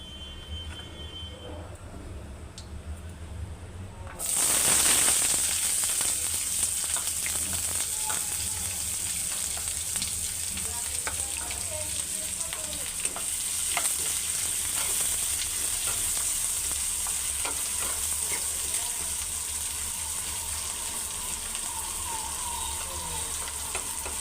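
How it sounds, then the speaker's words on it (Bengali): Onions hit hot oil in a pan already holding dried red chillies, and a sudden loud sizzle erupts partway through, then holds as a steady, bright crackle with occasional stirring sounds for the rest of the stretch. "হালকা ভেজে নিয়ে আমি এতে পেঁয়াজগুলো দিয়ে দেব"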